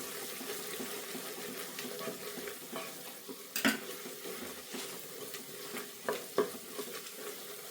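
Spices with garam masala fry and are stirred in a pan for tomato bath, a soft sizzle under scraping spoon strokes and a few sharper knocks and clatters, close by with no talk.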